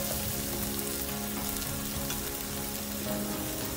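Tomato goes into a frying pangas fish dopiaza mixture and is stirred through, with dense, continuous sizzling and crackling of hot oil close up and faint scraping from the stirring. Nobody speaks.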